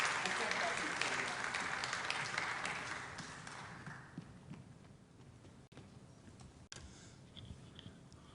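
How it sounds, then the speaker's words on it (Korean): A church congregation at a Wednesday service claps for the children, a loud burst of applause that fades over a few seconds into quiet room noise and scattered shuffling. "박수를 한번 부탁드리겠습니다"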